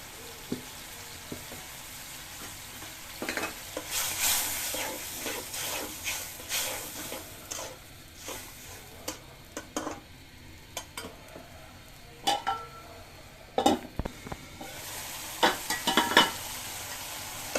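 Spices with salt, chilli powder and turmeric stir-fried in a pan, a continuous soft sizzle and hiss under repeated scraping and clattering strokes of a spatula, close and moderately loud.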